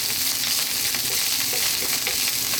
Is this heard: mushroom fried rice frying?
yes